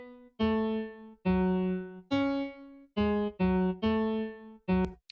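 A synth arpeggiator in LMMS with its time setting at maximum plays a sequence of separate sustained tones, about seven notes, each sounding on its own with short gaps between, clean and close.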